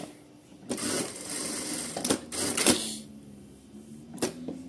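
A Sun Special electronic straight-stitch sewing machine running free stitching, with a steady close motor whir broken by several sharp mechanical clicks and clacks.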